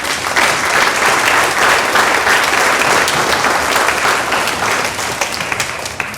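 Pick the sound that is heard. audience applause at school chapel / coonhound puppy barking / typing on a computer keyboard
audience applause at school chapel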